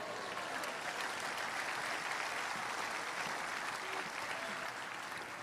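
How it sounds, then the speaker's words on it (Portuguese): A church congregation claps together in sustained applause during a sermon, a dense, even wash of many hands heard from across the room with no talk over it. "Você pode celebrar Deus com um aplauso aqui."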